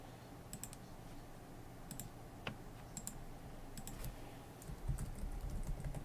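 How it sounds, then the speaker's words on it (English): Light, irregular clicks of typing on a computer keyboard during a Football Manager 2018 game session, with scattered keystrokes over a steady low background hum and no talking. "it's because I'm typing stuff"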